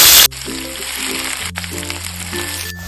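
Onions hit hot oil with a sharp, loud sizzling burst, then settle into a quieter, steady hiss of frying beneath soft background music.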